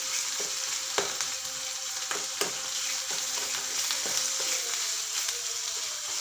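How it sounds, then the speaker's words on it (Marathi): A garlic-cumin paste and onion paste masala sautés in hot oil, giving a continuous bright sizzle with regular clicks and scrapes of a spoon stirring the pan. The sound stays close and even, with no talking. "हे सर्व मसाले आपण छान असे मस्त तेल सुटेपर्यंत मस्त असे परतून घेणार आहोत"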